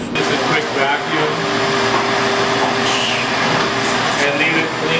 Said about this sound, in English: you want to plug in a vacuum. Just a quick vacuum.